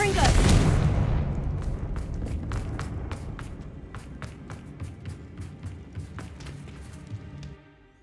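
A fiery blasting-curse explosion in the Hogwarts Legacy video game opens with a loud broadband burst, then rumbles and fades while a steady series of sharp ticking crackles follows through the tail.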